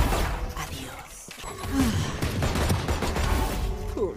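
Gunfire in the video game Valorant, a burst of shots under game effects and background noise, with people talking and reacting over it.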